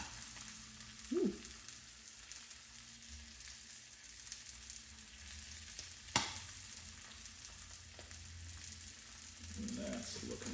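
Indian mackerel fries in a hot pan with a faint, steady sizzle and crackle, broken by a few soft clatters and one sharp knock of utensils.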